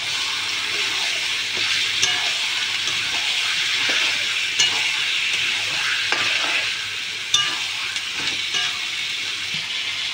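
Chicken pieces sizzle in a pan for curry while being stirred, a continuous close hiss broken by scraping spoon knocks and clatters, no speech.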